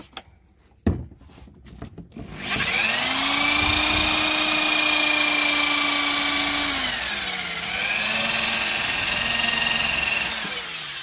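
A power tool with a 400 grit abrasive disc sands a wet car headlight, spinning up after a few clicks into a loud, steady whine that dips briefly in pitch under load partway through, then continues close to the microphone.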